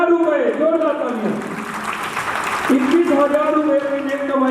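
Audience applause at a Shrimad Bhagavat Katha religious discourse in a temple, a broad steady clapping wash throughout, partly overlapped by a sung or amplified voice.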